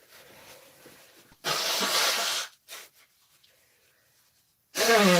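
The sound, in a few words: nose blowing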